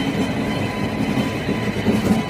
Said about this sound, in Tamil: திருச்சியிலிருந்து காரைக்கால் செல்லுகின்ற பேசஞ்சர் ரயில்.